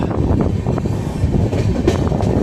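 A train rumbles loudly through Jhalda railway station, a dense continuous roar of wheels and carriages close at hand with faint clattering.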